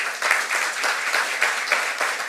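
Audience applause for the master of ceremonies at the launch of Tobago's Main Ridge 250th anniversary commemoration, a steady, dense round of clapping with no voices over it.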